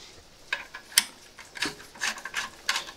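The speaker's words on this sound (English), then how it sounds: "So we need to undo the clamps." Scraping, ratcheting tool clicks and rubbing metal as exhaust clamps are loosened on a Triumph Scrambler 1200 motorcycle, close and irregular bursts over about three seconds.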